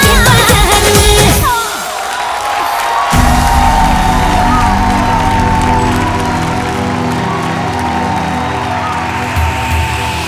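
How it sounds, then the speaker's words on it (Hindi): Loud applause and cheering from a TV dance-show studio audience, with whoops and shouts, swelling dense and sustained across the whole stretch, backed by music. "रउआ सबे जोरदार ताली से स्वागत करी श्वेता"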